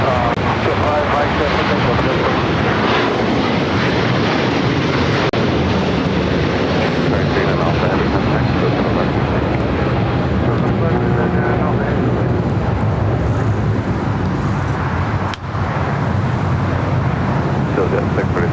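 Jet aircraft engines roar loudly and steadily at LAX airport as planes start their takeoff rolls, a broad continuous rumble with a brief dip near the end.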